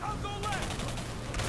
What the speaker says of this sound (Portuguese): trocas de tiro